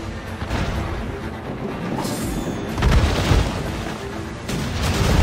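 Ship cannon fire in the video game Assassin's Creed Rogue: a dense, continuous rumble of naval battle with heavy booms swelling at intervals, loud and close, with no clear speech.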